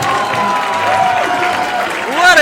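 A crowd at a Tetris tournament applauds and cheers in a continuous, fairly loud wash of clapping and voices, with commentators talking over it.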